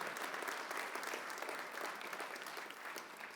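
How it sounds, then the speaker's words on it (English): A conference audience claps for sponsors at a nonprofit forum, a fairly quiet, steady round of applause from a modest crowd. "Let's have an applause for all of our sponsors."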